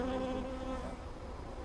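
Honey bees buzz around a beehive in a steady, dense, close drone of many wings, with no other sound over it.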